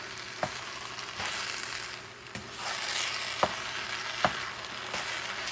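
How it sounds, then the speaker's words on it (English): Shrimp and onions sizzle steadily in a hot pan while being stirred, with several distinct utensil scrapes and clacks spaced through the continuous frying hiss. "The shrimp with the onions and stuff. Let's mix this stuff well."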